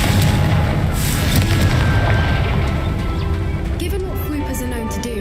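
Explosive spell blast from Hogwarts Legacy gameplay, a dense rumbling boom with crackling debris that fills the clip and slowly fades, loud under a spoken voice.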